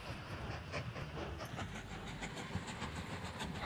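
Train running in the railway-building video game Mashinky, a steady rolling rumble with rhythmic clickety-clack pulses, continuous and moderately quiet, no talking.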